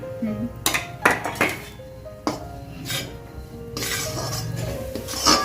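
Edible gum is stirred and roasted in a kadhai, with a spoon scraping and clinking against the metal pan in irregular strokes, and a voice talks over it.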